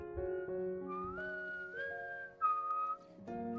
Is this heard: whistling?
yes